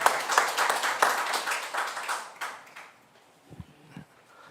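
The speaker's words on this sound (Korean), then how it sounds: "나오실 때 할렐루야 박수하겠습니다" Congregation clapping in welcome at a church founding worship service, a dense burst of applause that thins and fades out after about two and a half seconds, leaving a few scattered claps.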